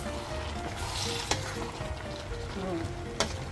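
Upo sautéed with sardines is stirred in a pan, with a continuous close sizzle and frying hiss. Two sharp clinks of a utensil against the pan cut through, and no one speaks.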